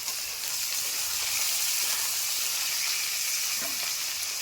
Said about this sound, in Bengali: পেঁয়াজগুলো কি সুন্দর লাল লাল করে ভাজা হয়ে গেছে